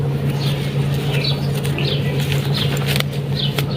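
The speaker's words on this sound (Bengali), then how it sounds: "কবুতরটা অনেক ছটফট করে" Young male pigeon with red eyes flutters and flaps its wings restlessly, a steady close rustling patter running throughout over a low constant hum, with no talking.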